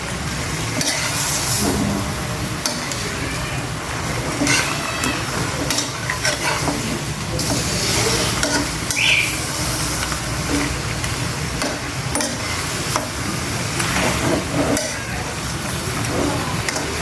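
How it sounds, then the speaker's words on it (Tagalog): Pork kaldereta sizzling steadily in a pan while being stirred, a continuous frying hiss with scraping and occasional clinks from the utensil. "haluin na natin guys."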